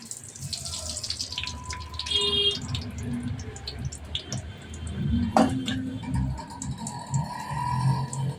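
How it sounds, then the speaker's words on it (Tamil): Mustard and fenugreek seeds spluttering in hot groundnut oil for kara kuzhambu, giving scattered small crackling pops throughout, heard under a person talking. "கடுகு பொரியுது பாருங்கள்."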